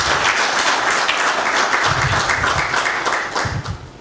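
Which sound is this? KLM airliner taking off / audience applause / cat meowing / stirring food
audience applause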